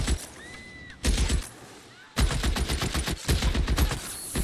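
In the 1940s Los Angeles police game L.A. Noire, a short burst of gunfire breaks a quiet moment, then heavy close shooting erupts in loud, rapid, overlapping volleys that run to the end.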